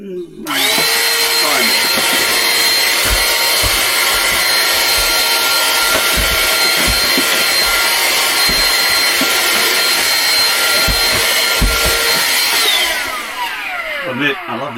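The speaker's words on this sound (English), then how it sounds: "That's a fucking great vacuum cleaner. Uses the same battery." A Ryobi battery-powered vacuum cleaner runs aboard a boat, switching on with a loud, steady whirring whine that holds for about twelve seconds before winding down, with occasional low knocks beneath it.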